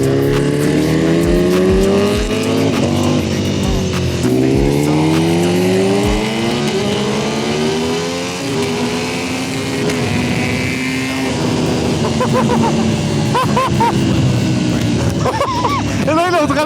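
A Ducati Panigale motorcycle accelerates hard on a race track, its loud engine note climbing repeatedly through the gears with brief drops at each shift, with voices talking over it.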